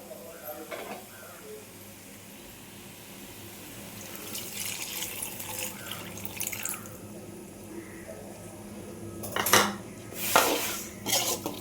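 Tamarind water pours and splashes into a pot of garlic curry over quiet background cooking noise, with a few clinks of a utensil against metal near the end.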